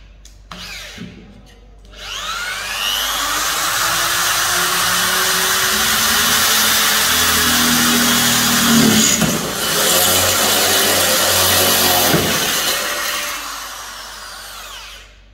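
A 750W INGCO electric impact drill runs steadily for about ten seconds with a loud, high whine, briefly dipping once midway before spinning back up and winding down.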